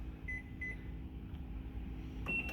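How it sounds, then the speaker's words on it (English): A low, constant hum and drone from an old microwave oven running while heating ramen with egg and pork, with a few short beeps early and near the end. "The microwave accelerates the process"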